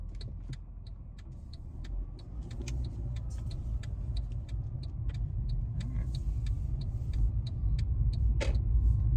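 An ordinary car cruising along a road, heard from inside as a steady low rumble that slowly swells, with light regular ticking clicks over the top and no talk.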